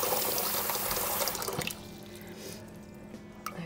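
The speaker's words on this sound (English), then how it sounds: "we're going to have to add a little bit more water in here." Water runs from a tap into a mini Phalaenopsis orchid pot, a brief bright splashing rush that stops after under two seconds and leaves faint drips and a quiet room.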